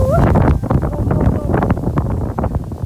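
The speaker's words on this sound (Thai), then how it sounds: "ลมแรงจริง" Strong wind blows on the Jiantan ancient trail in Taiwan, a loud, continuous buffeting rumble against the microphone with gusty surges, while a voice briefly sounds near the start.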